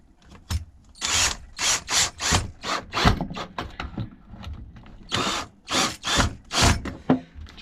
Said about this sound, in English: So I'm going to start them off with the drill and then doing up by hand.